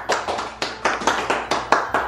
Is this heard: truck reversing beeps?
no